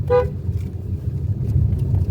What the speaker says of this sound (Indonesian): Ada baiknya kita membunyikan klakson dan menurunkan kecepatan